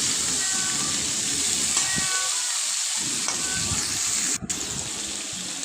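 Potato and cauliflower pieces sautéing in oil in a pan, a steady close sizzle and hiss running throughout with a brief quieter dip midway and a sharp knock near the end.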